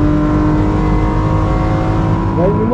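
A BMW M4 GT4 race car at full throttle, its engine a loud, continuous close-up roar with rising harmonic tones near the end as it accelerates.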